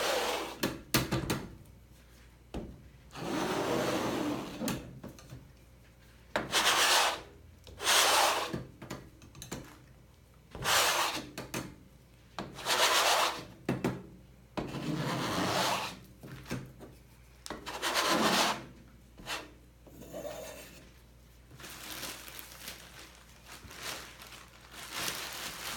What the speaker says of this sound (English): I think we'll just scrape it all off